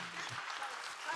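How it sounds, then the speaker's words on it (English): Conference audience applause, a dense steady wash of clapping from a crowd in a hall, moderately faint and even throughout. "So please give them a big applaud"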